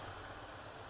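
An ADV motorcycle engine with a smart turbo fitted, a brief steady low drone of the running engine heard close and fairly loud for under a second, with no talk.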